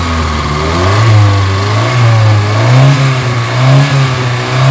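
A Kia Pride car engine that is blowing white smoke and running with vibration and low power is revved up and down in loud, close swells, with no talking.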